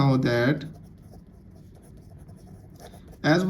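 A pen scratches softly and steadily on paper while a maths revision exercise on tangents and angles is written by hand, heard alone in a quiet stretch between a man's spoken explanation before and after.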